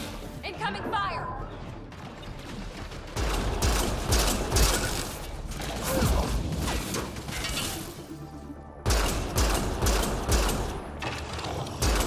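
Incoming gunfire in the sci-fi shooter Mass Effect Andromeda, dense mechanical clatter and crashing bursts in loud waves with brief lulls, mixed under in-game voice callouts.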